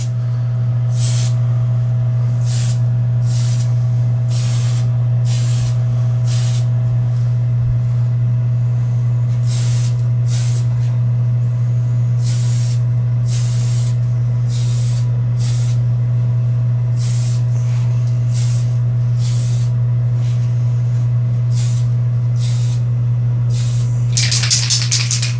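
A spray can of Tamiya surface primer coats a Datsun 240Z scale model in a series of short, evenly spaced hissing bursts over a constant low hum.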